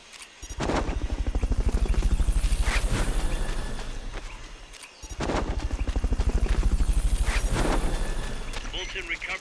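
Rhythmic thumping rotor chop of a helicopter in Metal Gear Solid Peace Walker, loud and close in two long sustained passes with a brief dip between, as a voice speaks over it.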